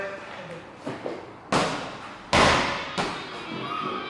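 A couple of heavy thuds as a ball is thrown and slams down, each impact booming and fading, with lighter knocks between.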